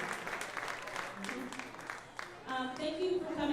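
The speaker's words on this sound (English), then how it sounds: "How about a round of applause for that?" An audience at a local business gathering claps, a steady wash of applause that swells louder toward the end, with a voice speaking over it.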